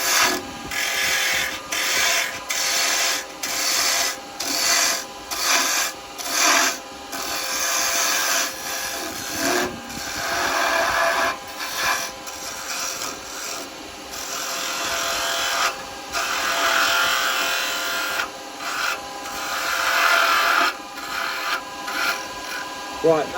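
A wooden baby rattle spins on a woodturning lathe while a cutting tool trims it down, giving a steady scraping, rasping hiss broken by short pauses as the tool lifts off and bites again.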